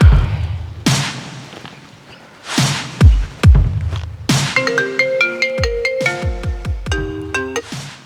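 A phone call placed on loudspeaker rings out, with a few sharp thuds early on followed by a repeating electronic ringtone melody in short bursts, loud and close.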